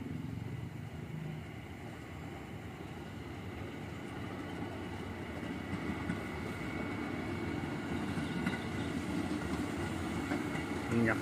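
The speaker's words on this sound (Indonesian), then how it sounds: "Ketahan sinyal masuk stasiun Matraman JR 205." A JR 205 commuter train rolls steadily into Matraman station, slowed by a signal hold. The rumble is continuous and fairly distant, with faint wheel clatter, and a voice speaks over it.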